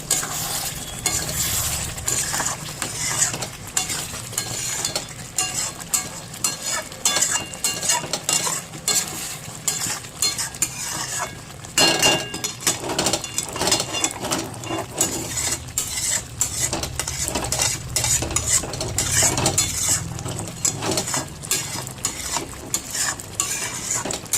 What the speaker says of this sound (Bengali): যত ঘন হচ্ছে তত ছিটা মারছে, জোরে জোরে ছিটাগুলো মারছে।